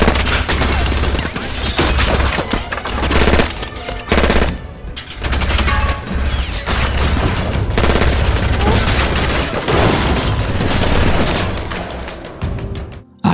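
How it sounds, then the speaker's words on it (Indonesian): Gunfire from a film shootout at apartment windows inside a building, loud, dense automatic bursts and booming shots that barely let up, sometimes mixed with other chaotic crashes. "Terjadilah baku tembak yang cukup alot."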